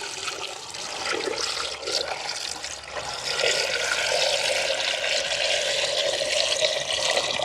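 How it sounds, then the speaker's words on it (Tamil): Water is poured into a cooking pot of sweet potatoes for boiling in a village garden kitchen, a steady close rushing splash that grows louder and continues for several seconds. "அளவாக வந்து தண்ணி விட்டுக்கொள்ளுவோம்."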